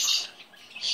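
A pet bird gives high, bright chirps, close and fairly clear, in one short burst that fades and then returns.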